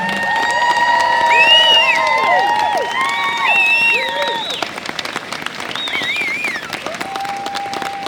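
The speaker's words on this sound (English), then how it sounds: "Let's give our third and fourth graders another big round of applause." School audience applauding third and fourth graders at a stage performance, lively clapping mixed with whoops, cheers and children's shouts that gradually thin out.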